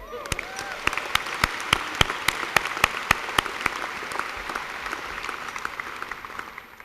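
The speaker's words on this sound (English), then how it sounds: "let's give a round of applause to everybody" A high school graduation crowd applauds, with a few sharp, distinct claps standing out near the mic over a broader, softer wash of clapping that slowly tapers off.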